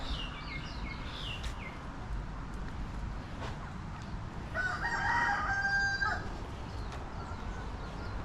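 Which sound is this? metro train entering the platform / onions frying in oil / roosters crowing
roosters crowing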